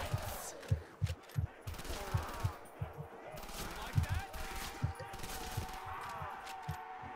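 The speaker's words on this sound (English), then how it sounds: "Look at this hip fire, like holy shit man." Hip-fired guns in a Call of Duty Zombies custom map called Hotel V2 crack out in rapid, uneven bursts of repeated shots, punchy and close, with game sounds underneath.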